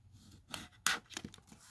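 Origami paper is folded for a traditional Japanese water bomb, producing a few soft, close creasing and crinkling sounds, with one sharper paper snap in the middle.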